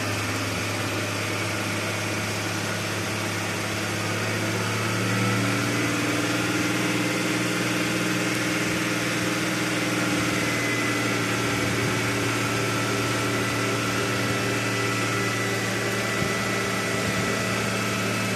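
An Ashok Leyland Bada Dost tipper's engine runs steadily at raised revs while its 5-ton single hydraulic jack lifts the bed, a loud continuous droning hum with a slight rise partway through.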